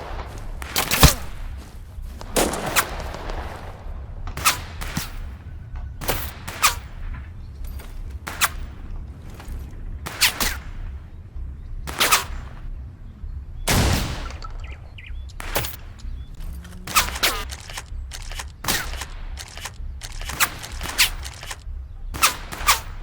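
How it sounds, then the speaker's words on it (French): Scattered gunshots in the video game Total Conflict Resistance, sharp isolated cracks at irregular intervals over a quiet ambient background with faint bird-like chirps. "Les balles pleuvent, mais je sais pas d'où elles viennent."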